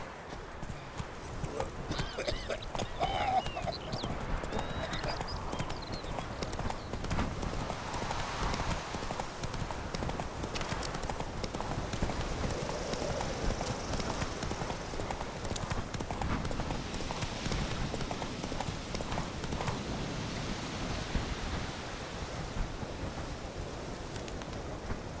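Roach from The Witcher 3: Wild Hunt gallops on at a continuous rapid hoof rhythm, mixed with rumbling weather-like ambience, a faint neigh and a few scattered voice fragments.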